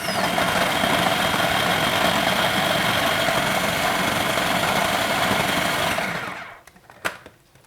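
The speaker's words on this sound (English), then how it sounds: "you can use a food processor and do a pulse on it, which just grinds it up pretty quickly" A food processor chops squid and porgy for fish chowder, giving a loud, steady motorized whir that runs for about six seconds and then cuts off abruptly, followed by a faint knock.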